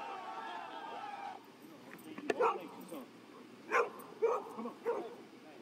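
A loose, unleashed dog barks in a parking lot, giving a few separate short woofs and yips spaced over several seconds, moderately near, with light talk and background noise in the first part.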